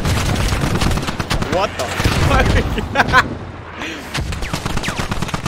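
Suppressed AKS rifle fire in the shooter game Squad, a fast run of muffled cracks clustered through the first few seconds, close and fairly loud, mixed with other game noise while players talk over it.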